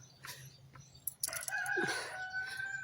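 A rooster crows once at a distance in Lebanon, its call rising and drawn out, amid faint outdoor ambience and a few soft bird chirps.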